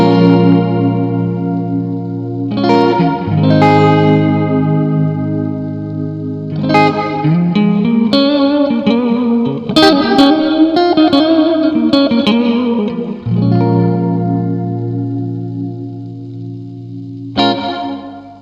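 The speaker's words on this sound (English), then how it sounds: "So you can hear in the decay there that there is that modulation, and it's kind of giving it that almost seasick, wavy feeling to it." An electric guitar runs through the modulated reverb setting of a Keeley Caverns V2 pedal, with strummed chords and single notes ringing out into a wavering, chorus-like warbling decay that swells and lingers between phrases.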